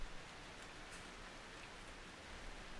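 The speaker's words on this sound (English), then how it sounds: "There's blood rain here now" Blood rain falls steadily in the horror video game Outlast 2, a faint, even wash of rainfall hiss with no talk over it.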